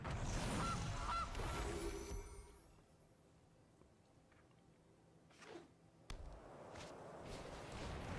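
Goose card in MTG Arena sounding off with a short honking burst as it enters play, followed by quieter game effects and a sharp swish later.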